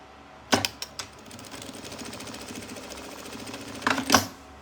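A sewing machine stitching a thermal bag, running in a steady fast whir between sharper clicks and taps at the start and end, close and fairly quiet with no talk.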